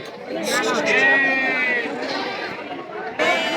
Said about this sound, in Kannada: ಇಲ್ಲಿ ಇಷ್ಟು ಎಳಗ ಟಗರ್ ಮರಿಗಳು ಅದಾವ